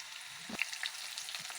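Tender jackfruit pieces shallow frying in a pan give off a steady, soft sizzle with a few light clicks. The sound is quiet and close, with no talking.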